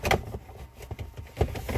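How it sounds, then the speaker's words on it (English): A parking brake lever being pulled a little inside a Pontiac GTO (Holden), a few short ratcheting clicks and thumps close by, starting and ending quickly, with no talk. "Pull the e-brakes a little."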